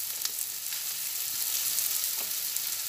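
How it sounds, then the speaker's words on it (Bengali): Onion with turmeric fries in a pan, a soft continuous sizzle with faint crackles, close and quiet, with no talking. "হলুদ দেওয়ার পরে পেঁয়াজটা আবার একটু ভাজছি।"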